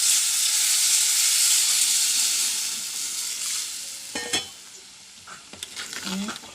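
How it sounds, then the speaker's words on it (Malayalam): Boiling water poured into hot fish curry masala of chili, coriander, fennel and turmeric, sending up a loud broad sizzle and hiss that slowly fades, followed by a few clinks and stirring scrapes in the pan. "അപ്പോൾ അതിലേക്ക് പാകത്തിന് തിളച്ച വെള്ളം ഒഴിക്കുന്നുണ്ട്."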